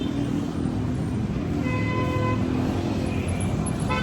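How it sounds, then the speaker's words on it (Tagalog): Car and tricycle horns toot in Philippine street traffic, several short honks with tonal streaks rising above a steady, dense roar of passing engines. "mga busina, mahilig magbusina dito sa Pilipinas"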